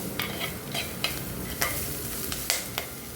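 Curry leaves frying in a pan of oil for a Tamil fish head curry, with steady low crackle broken by several sharp stirring scrapes and clinks spaced through the stretch, fairly quiet throughout.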